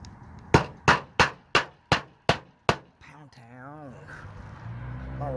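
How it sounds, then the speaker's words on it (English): A hammer drives trim nails into roof shingles with seven sharp, evenly spaced strikes, loud and close, followed by someone talking. "Good thing I didn't throw that hammer down. Pound town."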